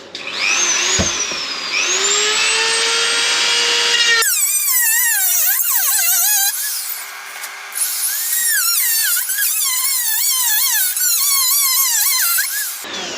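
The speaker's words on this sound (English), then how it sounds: "So you're using the trusty old Dremel with a decent cutting blade on it." A Dremel rotary tool fitted with a cutting blade slices into a Nissan 350Z rear light, giving a loud, continuous high-pitched whine that shifts and wavers in pitch as the blade bites, with a brief squeal.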